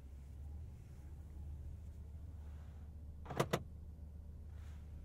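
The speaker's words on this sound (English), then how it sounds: "The door locks are louder than the engine." Two quick mechanical clicks of car door locks stand out sharply over a low, steady engine hum inside a quiet 2023 Rolls-Royce Phantom.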